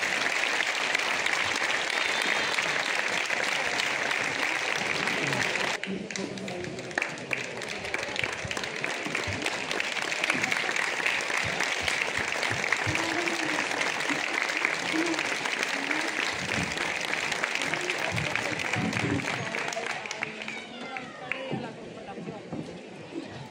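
Large crowd at the Fiestas del Tabaco y el Pimiento in Jaraíz de la Vera giving a long, loud, sustained round of applause for Fidela Sánchez Amor, tapering off near the end.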